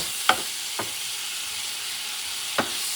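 A spatula stirs alligator paella with grated tomato in a hot pan, cutting through a steady loud sizzle with three sharp scrapes and clacks.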